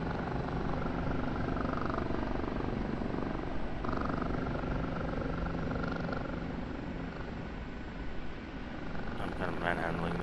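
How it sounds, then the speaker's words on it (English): Helicopter in the DCS flight simulator over the Kandahar Airfield map in Afghanistan, a steady low rotor and engine drone running throughout at moderate level, with someone talking over it. "I'm kind of manhandling this helicopter right now."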